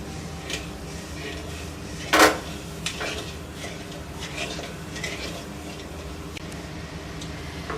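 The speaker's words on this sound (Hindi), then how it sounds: "और इसमें हम चीनी डालेंगे। हमें इसको रेगुलर चलाना है।" A spoon or ladle scrapes and clinks in a pan while sugar is stirred into milk for soybean dal barfi, with light ticking contacts and one sharper metallic knock, fairly quiet.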